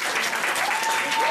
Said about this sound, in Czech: Obrovský aplaus!